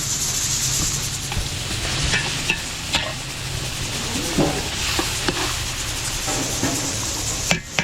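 A steady bubbling simmer of stew sauce in a pot, with sizzling and hissing, broken by occasional clinks and scrapes of stirring, continuous and fairly close.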